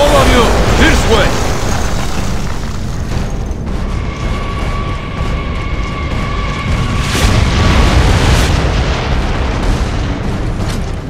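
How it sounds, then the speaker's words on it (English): Mortar explosions in Gears of War: Judgment, with loud deep booms and bursts close by, layered among ongoing battle noise and shouted voices across the whole stretch. "The mortars have us pinned down!"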